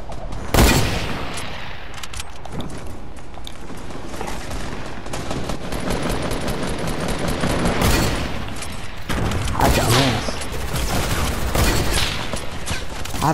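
Rapid bursts of video-game gunfire from Disco Domination rattle almost continuously, with dense automatic volleys and heavier booming shots, loud and close throughout.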